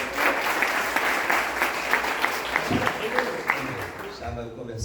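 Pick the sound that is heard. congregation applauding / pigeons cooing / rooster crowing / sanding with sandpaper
congregation applauding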